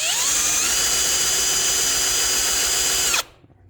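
An electric drill bores a hole for a 1/8 inch tap, whining steadily at high pitch and close by for about three seconds before it cuts off abruptly into quiet.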